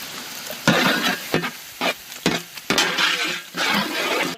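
Ginger garlic paste hits hot cold-pressed sesame oil with cinnamon, onion, curry leaves and tomato while Indian-style chicken fry is made, sizzling loudly in uneven bursts as it is stirred close up, with no talking.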